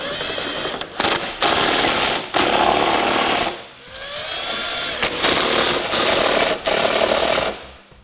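A power tool snugs down the bolts of a Curt trailer hitch receiver on a 2016 Toyota RAV4, loud and close in several sustained bursts separated by brief pauses, with no talk.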